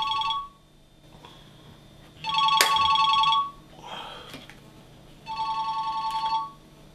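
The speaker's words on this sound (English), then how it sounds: "I'm just going to phone Hugh." A telephone rings in three repeated electronic bursts with pauses between them, loud and close, with no talking over it.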